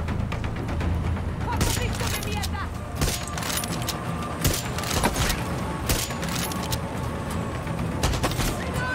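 Sharp rifle shots crack out repeatedly at irregular intervals in Far Cry 6 gameplay, loud against a steady background of engine and battle noise, with players talking between shots.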